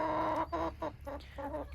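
Backyard hens in winter clucking in a quick series of short, soft calls, several separate bursts close by with brief gaps between them.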